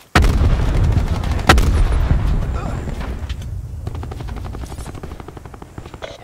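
Grenade blast and gunfire in Black Ops 4, Heist mode: a heavy boom with rumbling aftermath, sharp gunshot cracks and rapid bursts over a constant helicopter-like drone, fading toward the end.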